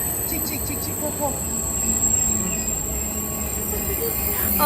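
Passing train with squealing wheels and steady rail rumble, loud and continuous throughout, with children's voices faintly in the background.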